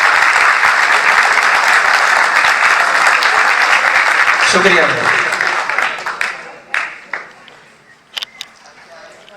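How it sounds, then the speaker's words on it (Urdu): Students at a 10th class school farewell party applaud their seniors in a loud, dense burst of clapping that fades into scattered claps, followed by someone speaking. "اپنے سینئرز کے لیے ایک دفعہ تالیاں بجائیں زوردار۔"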